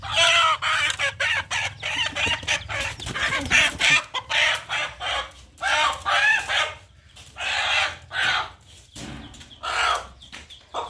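Chickens cluck and squawk in a busy, overlapping chorus close by in an African village, with a rooster-like call mixed in, continuing steadily throughout.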